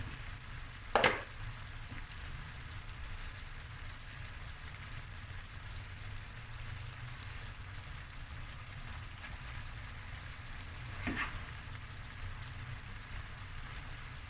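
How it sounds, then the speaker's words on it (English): Lamb fried rice sizzles and is stirred in a pan, giving a faint, steady frying hiss throughout. Two brief scraping clatters come near the start and again later. "Another 5 to 10 minutes stirring, and then the food will be done. Okay, that looks lush. I'm going to add some rice."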